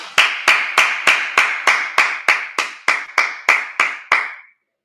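About fourteen sharp hand claps ring out in a fast, perfectly even rhythm, loud and close, as several people in a class clap together in unison, then stop.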